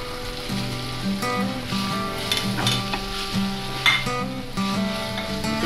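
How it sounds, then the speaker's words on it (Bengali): Eggs and noodles sizzle as they are stirred in a hot pan, a soft crackling hiss with scraping stirs beneath fairly prominent background music. "এবার ডিমগুলো দিয়ে দিচ্ছি, দেন নুডলস দিয়ে দিই।"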